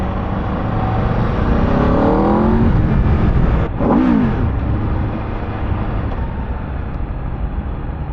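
An Aprilia RS 660 motorcycle engine revving, loud and close, with rising and falling pitch sweeps, one sharp rev in the middle, then a steadier engine drone.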